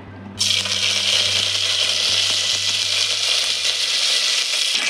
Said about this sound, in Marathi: त्याच्यामध्ये आपण आता फोडणीसाठी कढीपत्ता टाकूया।